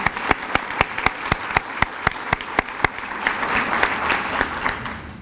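An audience at an employees-of-the-year celebration claps for elementary teachers of the year. A loud, evenly spaced rhythmic beat of sharp individual claps rings out over a softer wash of crowd clapping that swells toward the end.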